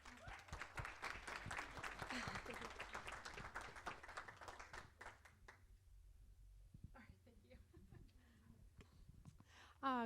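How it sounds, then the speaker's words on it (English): Audience applause fills a hall at an anniversary women's leadership awards program: dense, loud clapping for about five seconds, then it thins out and a speaking voice takes over. "Let's give her another round of applause."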